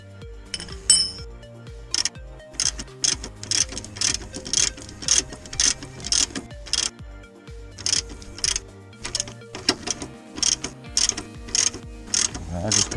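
A ratchet wrench tightens the rear axle nut on a Suzuki Bandit 600 motorcycle during chain tension adjustment, giving steady rhythmic metallic clicks in repeated short strokes, close and clear with no talking.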